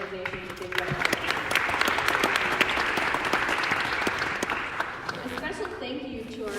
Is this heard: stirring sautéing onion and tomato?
no